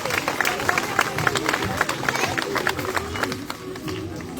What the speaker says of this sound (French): Et je pense qu'on peut applaudir bien fort Cléo pour cette petite démonstration.